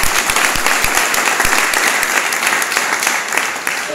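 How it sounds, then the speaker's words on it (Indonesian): A crowd of trainees at Pusdik Binmas bursts into loud, dense applause for their commander, with a few sharp individual claps standing out early before the sound eases slightly toward the end. "Tepuk tangan dulu untuk komandan."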